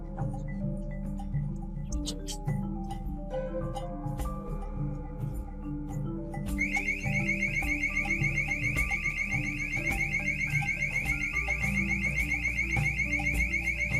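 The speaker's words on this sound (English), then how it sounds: "First, the alarm of motion detection 1 sounded" A motion detection alarm sets off a loud, steady electronic tone of rapid repeating pulses that starts partway through and keeps going, over a constant low rumble of machinery.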